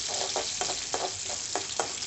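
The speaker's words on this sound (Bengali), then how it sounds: "একটু ভাজতেছি।" Onion, bay leaf and garlic fry in oil in a pan with a continuous close sizzle, while a spatula stirs in a regular rhythm of soft scraping strokes.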